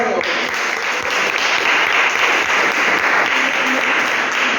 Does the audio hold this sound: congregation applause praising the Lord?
yes